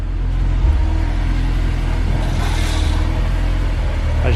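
A car creeps slowly forward on a barely engaged clutch, its engine producing a steady, close, low rumble with a slight rise in revs partway through.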